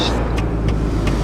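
The engine of a Western Star 4900 truck in the video game American Truck Simulator hums steadily and fairly quietly for a brief moment.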